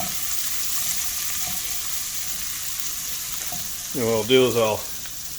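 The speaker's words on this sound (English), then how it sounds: "And then getting the onion seared." Onion sears in a hot pan, giving a steady close hiss and sizzle throughout. Near the end someone briefly talks over the frying.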